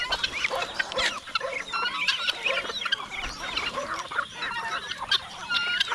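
A flock of free-roaming chickens with new chicks clucks and chatters busily outdoors, a dense, continuous mix of overlapping calls and peeps at moderate distance.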